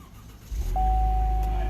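A car engine starts at the press of a push start button: a short crank, then the engine catches and settles into a loud, steady idle with a thin whine running over it.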